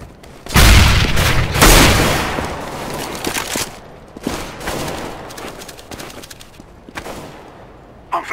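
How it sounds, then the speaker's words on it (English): A grenade detonates with a loud boom in Counter-Strike: Global Offensive on the Dust2 map, followed by scattered gunfire bursts and shots that fade and recur over several seconds. "I'm throwing a grenade."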